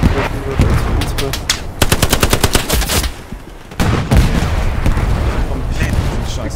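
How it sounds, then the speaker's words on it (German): Artillery and automatic gunfire in the WWII shooter Hell Let Loose during a German counterattack at Sainte Marie Du Mont, with dense rapid bursts and heavy booms rolling continuously, loud and close. "Unsere Arti schießt gerade."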